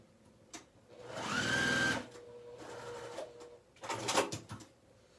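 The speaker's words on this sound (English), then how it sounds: "Just want to make sure you're not sewing your selvage on to where you'll be able to see it." A sewing machine stitches fabric near the selvage in bursts of steady mechanical whirring. A long run is followed by shorter ones, with quiet pauses and light clicks between them.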